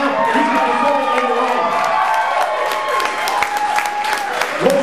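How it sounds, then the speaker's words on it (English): Live show audience breaks into loud, sustained applause with scattered cheers and whoops, while a voice carries over the clapping crowd. "give me a applause because he deserves it now"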